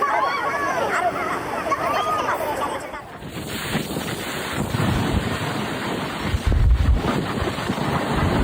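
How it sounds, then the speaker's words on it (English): Massive storm waves crashing along a coast, a loud roaring surf buffeted by heavy wind noise, with bursts of heavier impact and voices faintly mixed in. "Watching these massive waves crash"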